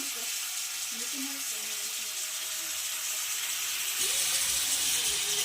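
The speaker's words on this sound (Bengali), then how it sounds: "আমি মাংসগুলো হালকা করে ভেজে নেব" Chicken pieces fry in a pan over medium heat for a Bengali chicken jhal fry, giving a steady broadband sizzle and hiss throughout, loud and close, with a voice speaking faintly beneath.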